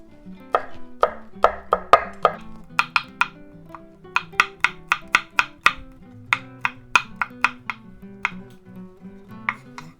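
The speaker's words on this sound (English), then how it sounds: "we'll continue by chopping the garlic" A knife chops garlic cloves on a cutting board in a home kitchen, making a run of about thirty crisp, close, fairly even knocks with short pauses between them. A low hum sits underneath and no one speaks.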